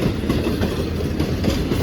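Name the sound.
Awam Express passenger train passing on the rails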